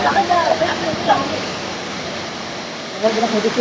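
The Veer perennial waterfall in Konkan roars as a steady, loud rush of water, with people's voices talking over it near the start and end.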